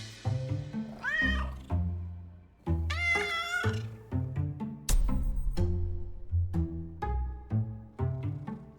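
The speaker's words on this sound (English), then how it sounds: "It's a ginger cat riding a jetpack." Ginger cat riding a jetpack in Overwatch, meowing repeatedly with drawn-out, loud mews between short rhythmic chirps and thumps, close and clear without talk.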